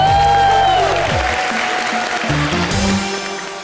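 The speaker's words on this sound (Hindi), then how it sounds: "शकील भाई के लिए एक बार जोरदार तालियां हो जाए।" Studio audience applause at a comedy show fills the space loudly and closely, a dense wash of clapping that holds steady for a few seconds and then eases slightly toward the end.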